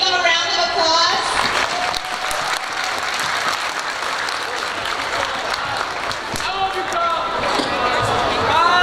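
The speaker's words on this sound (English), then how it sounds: "Can we give them a round of applause?" A school audience applauds loudly after a sing-along at a high school Chinese Lunar New Year celebration, steady clapping filling the space with voices speaking over it at the start and end.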